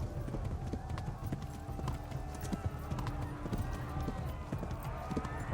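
Rapid hoofbeats of a horse in a video game clatter in a steady galloping rhythm, close and continuous, with a busy background mix beneath them.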